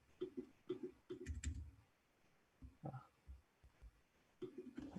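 Computer keyboard typing, a few close bursts of soft clicks separated by pauses.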